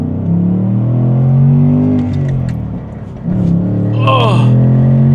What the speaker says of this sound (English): Let's see what this V8's got from first gear.